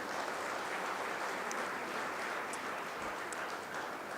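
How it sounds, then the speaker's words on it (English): Audience at a university design-week townhall giving a round of applause, a dense, even wash of clapping that holds steady throughout with a few sharper claps poking out. "Let's give them a big round of applause."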